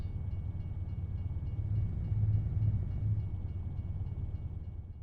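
A train rolling along tracks in Euro Truck Simulator 2, a low steady rumble of rail wagons that swells slightly mid-way and stays in the distance, with no talk.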